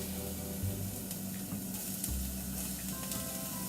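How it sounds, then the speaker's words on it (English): Steady, soft frying sizzle of onion in a hot pan, continuous and fairly quiet, with a few faint clicks and no voices. "You'll hear that sizzling. And you gotta make sure your pan is hot."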